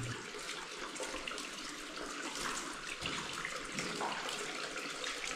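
Water running away down a drain inside a shaft of the disused Sandsend railway tunnel, a steady broadband rushing and trickling that fills the whole stretch, close and continuous with no talk.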